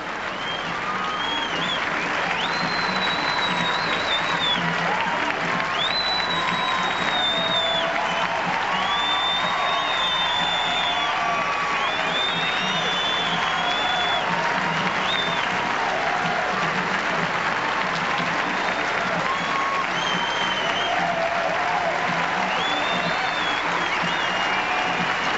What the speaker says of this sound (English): Let's listen to the ovation.